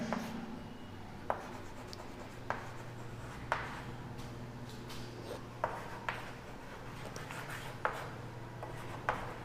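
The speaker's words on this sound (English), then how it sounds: "So here I can write" Chalk or pen writes on a board in a quiet room, with soft scratchy strokes broken by sharp taps at irregular intervals.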